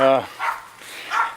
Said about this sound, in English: Okay, you dogs, y'all be quiet. Let that raccoon alone.